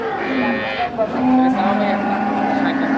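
A dairy cow, newly brought in with her calf for sale at a cattle market, lets out a long, loud, drawn-out moo close by, rising and holding steady for about three seconds over faint background noise.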